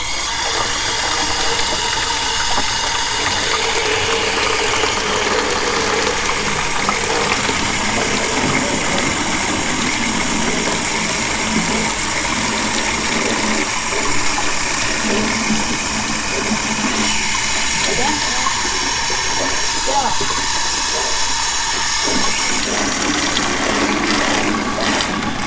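Water gushes steadily into a watering can in a garden, a loud, continuous rushing and splashing that lasts throughout with a faint mechanical hum beneath and no clear talk.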